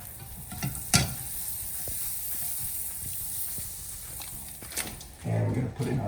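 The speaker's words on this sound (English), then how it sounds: "We're going to coat the bottom of the pan with just a little bit of butter." A little butter sizzles faintly in a frying pan before an omelette, a low continuous hiss with occasional soft clicks, while someone talks nearby.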